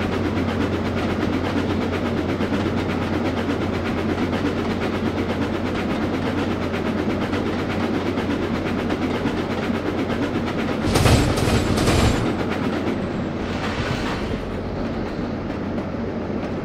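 An HST train driven in the Trainz game rumbles steadily along the track in a continuous loud drone, with a brief, sharper burst of noise near the end and no voices.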